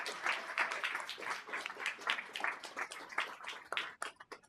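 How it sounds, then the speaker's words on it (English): Enthusiastic applause from a crowd at a First Nations crowdfunding event, many hands clapping densely for several seconds before thinning out at the end. "Round of applause."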